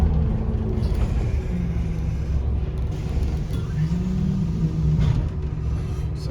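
A 2009 Scania N230UD Optare Olympus double-decker bus running on the route to Bournemouth, a steady low engine rumble heard from on board with faint rattles and shifting tones.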